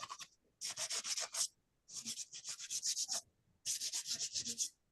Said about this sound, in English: I'll just run a little sandpaper over that.